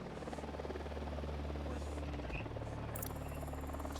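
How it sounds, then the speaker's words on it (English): Patrolling helicopter in the Ghost Recon Wildlands video game, a steady low rotor drone and hum running throughout amid game ambience, with a brief higher electronic tone near the end. "Drone is airborne. Unidad bird on patrol."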